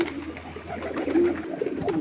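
Pigeons coo softly and close by, with low, throaty, rolling calls over a faint background hum.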